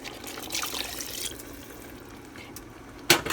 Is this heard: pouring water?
yes